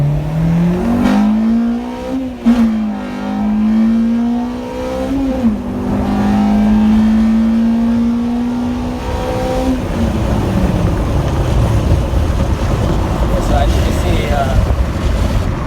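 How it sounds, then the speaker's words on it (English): An Acura Integra's swapped K20 VTEC engine revs hard and close, its pitch climbing through a gear change to a high scream before dropping off into rumbling road noise. "That's how the VTEC's supposed to sound."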